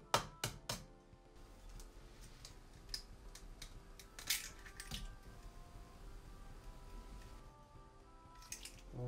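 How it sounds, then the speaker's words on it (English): A turkey egg cracked open by hand, with a few sharp taps and crunchy shell breaks spread across several seconds over a quiet, faintly humming room; no talking. "Alright, so it's time to crack this egg."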